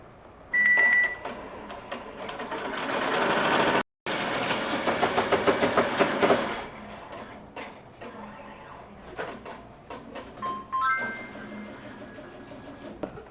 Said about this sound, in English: I'll go ahead and run the tack down stitch.